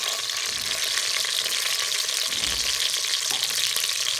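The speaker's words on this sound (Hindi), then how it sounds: "घी हमारा गर्म हो चुका है, स्टार्ट करते हैं। बिस्मिल्लाहिर्रहमानिर्रहीम। सबसे पहले हम डालेंगे प्याज।" Onions sizzle and fry in hot ghee for a pulao, a steady broadband hiss with faint stirring scrapes throughout, close and continuous with no talking.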